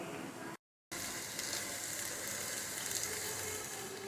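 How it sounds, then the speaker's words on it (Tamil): Okra (ladies finger) frying with masala in a pan gives a steady, close sizzle and hiss with no talk. A short silent gap comes early, and the sizzle returns at the same level. "பாருங்கள், வெண்டைக்காய் நல்லாவே ஃப்ரை ஆகிட்டு வருது"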